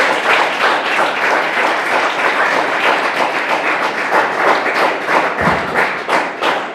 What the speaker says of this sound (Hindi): आइए ताली बजा सकते हैं।